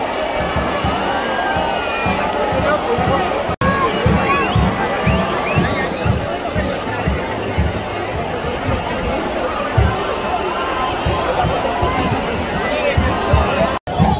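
A dense cheering crowd roars at the cricket victory parade for India's champion team arriving at Wankhede Stadium in Mumbai, a continuous loud wash of shouts and chatter with someone talking over it.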